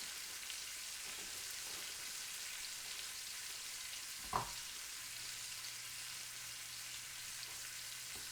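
Steak sears in a hot pan, giving a steady, faint, rain-like sizzle that holds evenly throughout, broken by a single soft knock about halfway through, with no voices.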